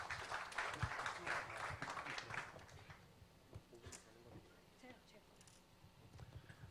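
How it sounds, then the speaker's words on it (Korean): Audience applause at a startup founders' five-minute speech forum, fairly quiet and somewhat distant, filling the first three seconds before thinning out into scattered sounds, with voices present. "네, 그럼 큰 박수로 시작하겠습니다"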